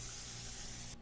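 HVLP spray gun applying Ultra Ever Dry superhydrophobic coating, a steady, loud, continuous hiss of atomized spray that holds evenly for a second before cutting off abruptly at the end.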